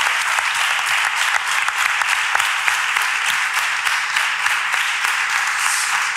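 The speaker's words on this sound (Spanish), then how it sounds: "le voy a pedir al público que le dé un aplauso a Mauri Rueda, Gonzalo Ruiz, Belén Romero" An audience at a youth brotherhood fair during Holy Week events in Málaga breaks into steady, dense applause, a continuous wash of many hands clapping from a crowd, with no speech over it.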